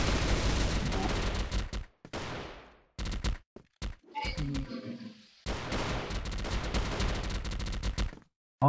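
Bursts of automatic gunfire from the CrossFire shooter game come in loud, dense volleys broken by short pauses and scattered single shots, with faint game sounds between them.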